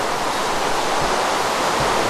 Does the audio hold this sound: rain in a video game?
yes